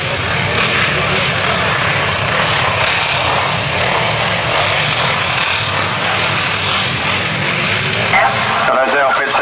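Grasstrack sidecar outfits at a 1991 Maidstone Aces meeting roaring away from the start down the first straight, a dense, loud, continuous engine blare with a commentator talking over it.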